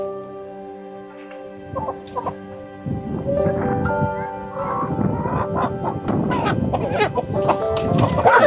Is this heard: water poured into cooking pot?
no